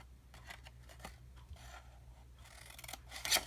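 Scissors snip through card along a 1.5-inch score line for a nesting-die craft project, a few short quiet cuts with soft rasping, near and without talk.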